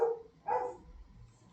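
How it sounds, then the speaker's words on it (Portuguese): A dog barks twice in the background of an indoor recording, two short, faint yaps about half a second apart, followed by quiet room noise. "Cachorro latindo no fundo"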